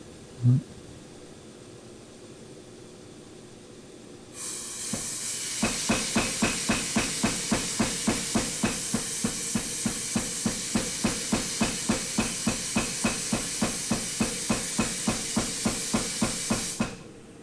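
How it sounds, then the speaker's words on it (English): Steady rapid hammer blows from a dog's head style hammer planishing a blade edge at a forge, about two strikes per second for roughly twelve seconds, over a loud hissing roar like a blower or steam. "he's got his dog's head style hammer. Yeah. Which I guess is best for that type of planishing work"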